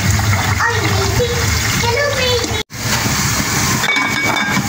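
Water pours and splashes into a cooking pot in a home kitchen, a continuous running sound with a brief cutoff, while someone talks over it.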